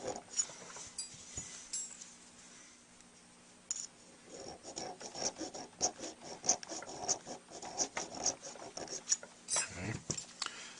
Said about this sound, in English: I'm going to use a couple Riffler files to detail the work I started with the rotary tool.